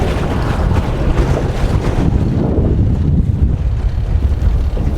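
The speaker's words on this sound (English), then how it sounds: "No need to choke this particular motor because it's got one of those sort of auto enrichment prime start type arrangements on it." A small boat's outboard motor with an auto-enrichment prime start runs steadily outdoors, its drone heavily mixed with loud wind buffeting and water noise.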